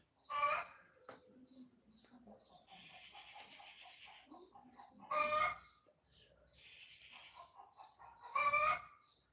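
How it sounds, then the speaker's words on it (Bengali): Village chickens cluck and call repeatedly at close range, with three louder bursts standing out against quieter clucking and a faint background hum. "গ্রামে সবার আওয়াজ শুনতে পাবে পাখির আওয়াজ মুরগির আওয়াজ গরুর আওয়াজ"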